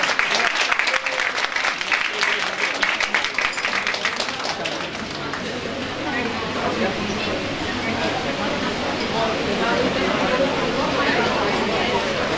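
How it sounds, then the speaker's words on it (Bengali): Applause at a prize distribution ceremony for rank holders, a crowd clapping in a quick dense burst that gradually softens into a diffuse wash of claps and murmuring chatter from the hall. "এই জোরে হাততালি দাও"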